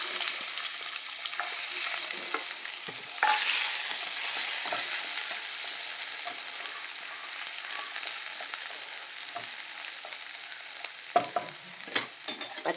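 Onion, garlic and ginger frying in oil with fenugreek seeds, a steady bright sizzle throughout with occasional stirring scrapes and small pops, close and alone with no voices.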